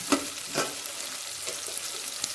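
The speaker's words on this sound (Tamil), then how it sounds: "வெங்காயம் கொஞ்சம் வதங்கணும், மெரூன் கலரில் வந்தோடனே பார்த்தீங்கன்னா" Onions sautéing in a pan for a homemade chicken curry, a close steady sizzle with a few light stirring scrapes.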